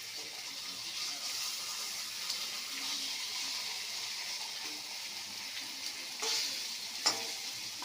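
Fried beans and potatoes added to a hot pan with rohu fish in mustard paste, sizzling steadily and close, with stirring scrapes and a couple of sharp clinks near the end.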